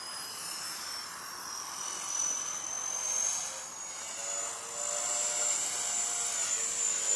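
A small 325mm-blade RC helicopter flies nearby outdoors, its high whining rotor and motor whir steady and loud throughout, rising and falling slightly as it manoeuvres, with no talk over it.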